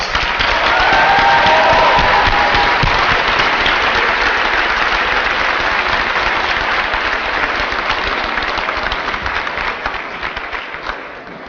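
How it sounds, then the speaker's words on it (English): A large crowd applauds the graduating class at a university undergraduate commencement ceremony, a loud, sustained wash of clapping with some cheering that slowly tapers toward the end. "A big applause for all our graduates, the 2017 class, the first cohort of our undergraduate program."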